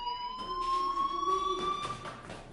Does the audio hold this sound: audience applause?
no